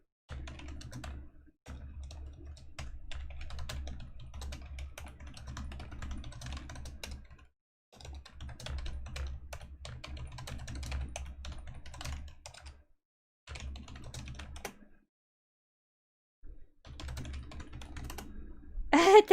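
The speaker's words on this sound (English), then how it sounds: "let's type to them" Keys clatter on a computer keyboard in quick, uneven bursts of typing, close and moderately quiet, broken by a few brief pauses.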